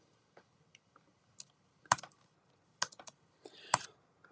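Scattered keystrokes on a computer keyboard, sharp isolated clicks in irregular clusters with long pauses between them, close and fairly quiet in an otherwise still room.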